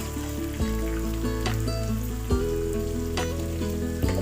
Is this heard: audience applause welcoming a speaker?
no